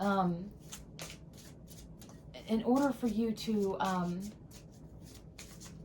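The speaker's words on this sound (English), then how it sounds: "I'm shuffling these cards if you're hearing that. So I am shuffling cards" Tarot cards being shuffled in quick, repeated riffling bursts, crisp and close, running between and beneath a person talking.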